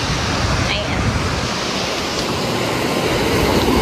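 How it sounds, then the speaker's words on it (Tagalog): Rough afternoon sea waves wash onto a beach as a loud, continuous roar of surf and wind noise, steady throughout. "Medyo maalon na kasi hapon na."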